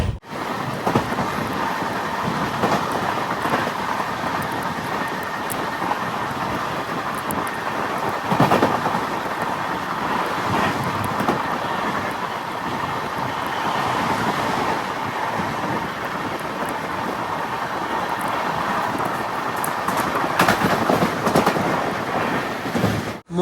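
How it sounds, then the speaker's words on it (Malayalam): Madurai passenger train running at speed, a steady broad rushing roar of wheels and wind that holds close and loud throughout, with a few brief louder surges and no voices. "അത്യാവശ്യം നല്ല സ്പീഡിൽ തന്നെയാണ് ട്രെയിൻ പോകുന്നത്"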